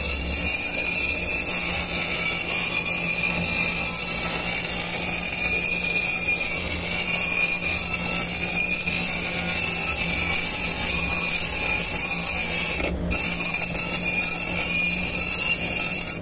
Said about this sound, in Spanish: vamos a proceder a echarle una pulidita bien bonita